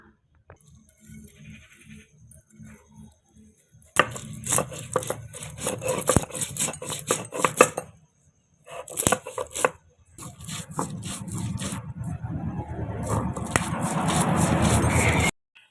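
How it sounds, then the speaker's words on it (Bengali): Mustard seeds and green chilies ground together on a stone, heard as rhythmic scraping and rubbing strokes, sparse and soft at first, then louder, denser grinding with a short pause midway, close and without talk. "এই মালাইকারির জন্য সর্ষে আর কাঁচা লঙ্কা একসঙ্গে বেটে নেব"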